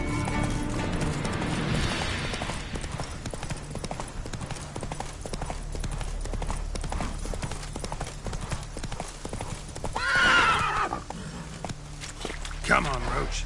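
Roach, a horse in The Witcher 3 next-gen edition on PS5, clip-clops along at a steady trot, hooves thudding over a low music bed, with a short whinny-like rise near the end and a voice speaking briefly.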